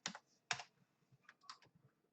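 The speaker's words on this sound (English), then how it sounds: "you type it here" Keys clacking on a computer keyboard as a level ID is typed into a Geometry Dash search box, two loud strokes followed by a quicker run of lighter taps, close and dry with no talking.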